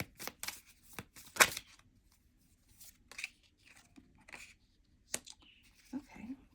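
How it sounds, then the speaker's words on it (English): Tarot cards being shuffled by hand during a reading, heard as a few short papery riffles and taps spaced out over several seconds, close and fairly soft, with no talking. "Let me shuffle a little bit,"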